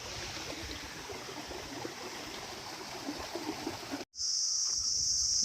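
Cold water flowing steadily in a stream beside a hillside field, a continuous broadband rush for about four seconds, broken by a brief cut, then a louder rush joined by a sharp high whine.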